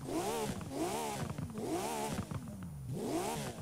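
A 1990 Porsche 911 reimagined by Singer in Forza Horizon 4 revs hard in repeated rising and falling sweeps, a loud continuous engine roar with crackles and pops between the pulls.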